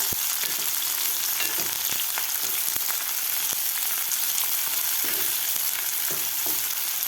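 Thinly sliced onions fry with a loud, continuous sizzle in a pan for potato chutney, with occasional spatula taps and scrapes close by and no talking.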